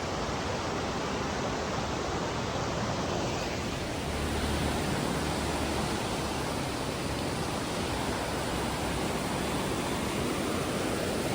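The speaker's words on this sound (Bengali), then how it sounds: "অসাধারণ একটা আওয়াজ আছে ঝর্ণার, মানে ওয়াটারফলসের কলকল কলকল আওয়াজ" A waterfall beside a mountain road in Bhutan pours out a steady, dense rushing roar that fills the whole stretch without pause, loud and close, with no voices over it.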